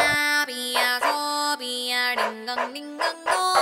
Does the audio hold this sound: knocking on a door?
no